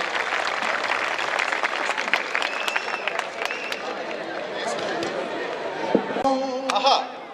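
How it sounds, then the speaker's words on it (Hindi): Audience applause at a Hindi poetry recital, a sustained patter of many hands clapping across the hall, with a voice speaking over it and a few louder claps and a brief tonal flourish near the end. "एक बार तमाम लोग तालियां बजाएं।"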